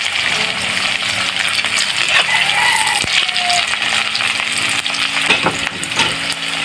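Dry and green chilies sizzle loudly in hot oil for an Assamese potato and egg curry, a close, continuous frying crackle with occasional stirring clinks.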